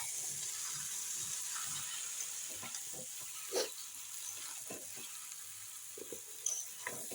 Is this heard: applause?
no